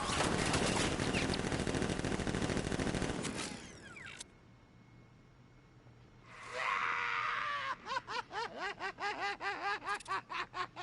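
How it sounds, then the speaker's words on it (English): Dense, loud automatic gunfire in the video game Batman Arkham Knight roars for about four seconds and then cuts off. A quiet stretch follows, then rhythmic pulsing, laugh-like game sounds. "Open fire! Shoot everything!"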